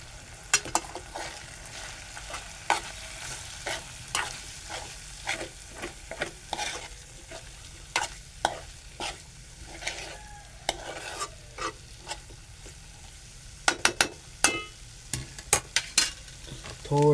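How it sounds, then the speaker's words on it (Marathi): A spoon repeatedly stirs and scrapes sliced snake gourd frying with flour coating in a pan, producing a soft continuous sizzle under clear, rhythmic scraping strokes, close and alone. "ढवळून घेऊया."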